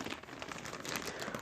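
A plastic bag used for rolling and compressing travel clothes crinkles faintly and continuously up close, a soft, rapid rustle of handled plastic.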